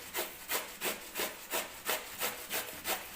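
Raw green mango is grated on a hand grater with evenly paced rasping strokes, about eight in a row, close and clear with no voices.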